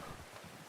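In the video game Red Dead Redemption 2, faint hoofbeats of a horse approaching, soft and somewhat distant, over a low windy background with no talking.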